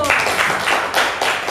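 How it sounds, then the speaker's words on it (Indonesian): A short stretch of audience applause at a teachers' literacy motivator session: steady, fairly loud clapping from a room of people for about a second and a half. "kita beri aplaus."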